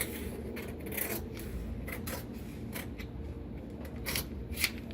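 Scissors cutting straight down the creases of paper for lining a soap mold, several quiet crisp snips with soft paper rustling between them, close and faint.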